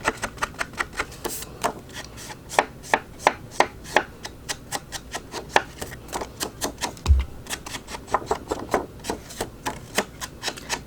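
Paper edges for a junk journal are inked with an ink pad in quick, repeated dabbing strokes that make a close, rhythmic run of soft tapping and brushing sounds.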